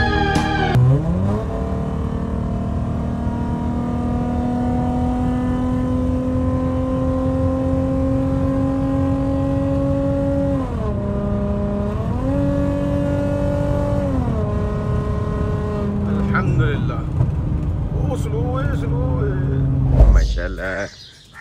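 A car named Rudy driving on the road, its engine drone rising and falling through gear changes at close range, with a few birds chirping and a brief bump near the end.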